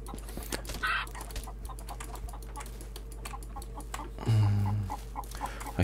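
A chicken in the Will To Live Online video game clucking in a few short bursts, under steady computer keyboard typing and clicks, with a louder burst near the end.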